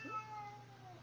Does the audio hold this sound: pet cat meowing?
yes